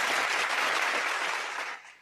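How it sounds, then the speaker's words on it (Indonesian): A crowd of young people at a morning youth festival event in Makassar applauds, a dense, steady wash of clapping that holds loud for nearly two seconds before tapering off at the end. "tepuk tangan kita semua dulu."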